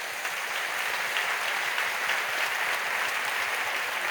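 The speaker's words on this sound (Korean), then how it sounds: "여러분 그의 박수로 좀 환영하시죠" A church congregation at a Korean Methodist prayer meeting applauds to welcome visiting pastors, a dense, steady wash of clapping from many hands with no voices over it.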